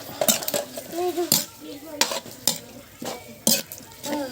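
Duck offal stir-fried in a pan for a duck blood curry, a utensil scraping and clanking against the metal at an uneven rhythm over a soft sizzle, with sharp scrapes recurring every second or so.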